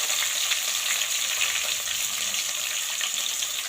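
Spices, curry leaves and onion sizzle steadily in hot oil for a Tamil brinjal and potato gravy, a close, even crackling hiss with no talking.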